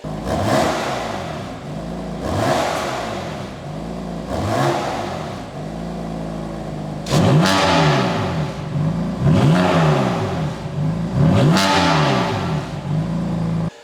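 BMW 3 Series G21 exhaust revving, a run of repeated throttle blips. Each rev climbs and falls back, and the later revs come louder and closer together, with no talking.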